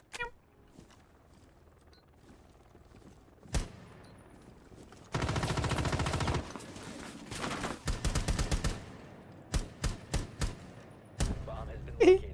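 Gunfire in Rainbow Six Siege comes in scattered single shots and sustained automatic bursts, loud and close, separated by quieter stretches of ambient game sound.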